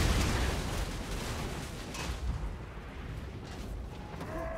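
Booming cannon artillery fire in a Warhammer multiplayer battle, a heavy low rumbling blast that dies away over a few seconds, with faint distant battle noise trailing behind.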